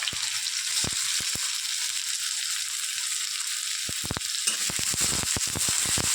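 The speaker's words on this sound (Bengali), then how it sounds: "আমি লোটে মাছটা রান্না করার জন্য তেল গরম করে নিয়েছি এবার আমি এর মধ্যে পেঁয়াজ দিয়ে দেবো" Onions sizzle in hot oil at the start of cooking loitta fish, a continuous loud frying hiss broken by scattered sharp pops and clicks, with no one speaking.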